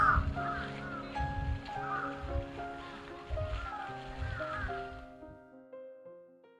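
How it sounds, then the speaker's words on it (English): Several crows caw repeatedly in a Tokyo park area with fountains, the harsh calls loud and close over a steady rush of water and faint background music. "We found the area with fountains, and also pretty much all of Tokyo's crow population."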